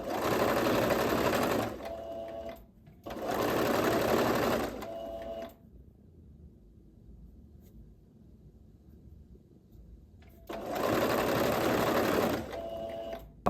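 A sewing machine runs in three loud, steady bursts of rapid stitching, about two seconds each, separated by quiet pauses. It is stitching fabric along a dress neckline.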